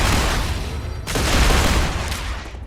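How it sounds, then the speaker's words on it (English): Enemy gunfire in StarRupture cracks out as a rapid, dense fusillade of shots, loud and continuous, swelling briefly midway. "There's some dude shooting us with..."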